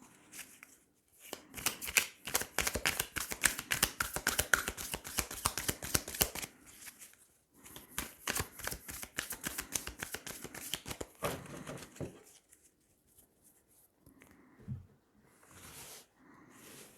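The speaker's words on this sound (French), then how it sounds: "Alors, on va tirer 9 cartes." Tarot cards shuffled by hand for a reading, a quick run of crisp riffling flutters in two long bursts close to the mic, then a pause and a few softer card taps near the end.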